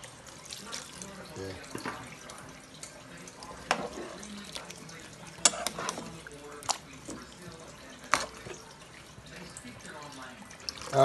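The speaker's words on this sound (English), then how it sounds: "Add some water on over, guys." Water runs and splashes into a cooking pot over onion for Jamaican-style brown stew pork, with irregular drips and clatters, moderately close, alongside faint background voices.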